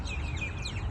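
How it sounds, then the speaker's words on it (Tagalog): Birds calling outdoors, a brief run of thin high chirps over a low background rumble, faint and somewhat distant. "Nandun na yung mga ibon."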